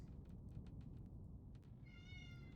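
A house cat gives a single short, high meow near the end, standing out above a steady low background hum with no talking.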